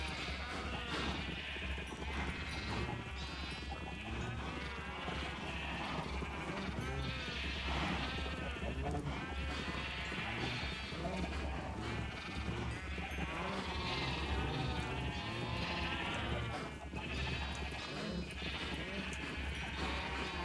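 Sheep in the video game Minecraft bleat repeatedly and loudly in an overlapping chorus, layered close together over a steady low background hum with no pause across the whole stretch.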